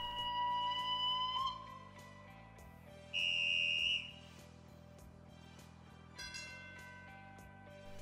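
A LEGO Powered Up app plays its train sound effects through a device speaker: a steady whistle tone, a brief louder high whistle, then a short chiming effect. All of it is faint, over a low background hum.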